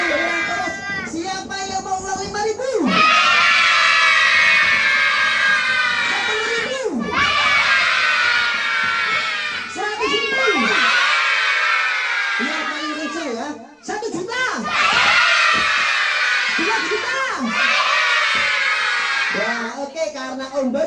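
Crowd of children at an outdoor clown show shouting and screaming loudly together in repeated long bursts, with short pauses between, while an adult voice briefly talks.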